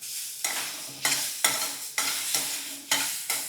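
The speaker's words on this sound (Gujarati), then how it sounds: "બે જ મિનિટ માટે મરચાંને એમને જ તેલમાં થવા દેશું એટલે એકદમ સરસ સોફ્ટ બની જશે" Green chilies frying in oil in a pan, a steady sizzle broken by about seven regular scraping stirs of a spoon, close and moderately loud, with no voices.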